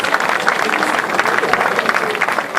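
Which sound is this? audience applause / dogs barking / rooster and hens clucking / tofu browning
audience applause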